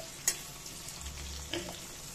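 Onions frying in a pan, a quiet steady sizzle with a couple of brief utensil taps and scrapes against the pan.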